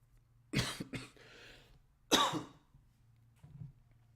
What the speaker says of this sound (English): and immediately start coughing.